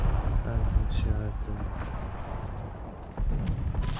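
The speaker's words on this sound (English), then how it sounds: "Firing cannon." Cannon fire in the Medal of Honor video game, a run of dull booming bursts layered under radio chatter and a rumbling combat backdrop, fairly loud and close.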